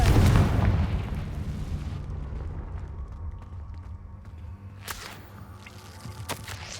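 Confringo spell blast in Hogwarts Legacy, a booming explosion at the start that rumbles and slowly fades, followed by a few sharp cracks and pops later on, with no speech.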